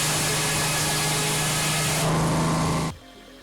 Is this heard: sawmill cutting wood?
yes